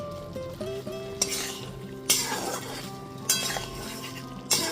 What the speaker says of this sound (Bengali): সমস্ত ভেজে রাখা বেগুনের টুকরোগুলো দিয়ে দেওয়ার পর মশলার সাথে খুব ভালো মতো একটু মিশিয়ে নিচ্ছি।